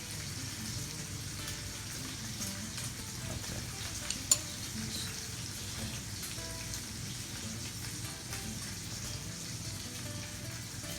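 About a pound of beef liver frying in a pan with onions, a steady crackling sizzle like light rain that runs without a break, with a brief clink of the utensil partway through.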